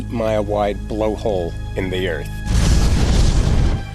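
A loud, dense explosive roar of a huge volcanic eruption at Santorini bursts in about halfway through and rumbles steadily to the end, following a stretch of narration over a low rumbling bed.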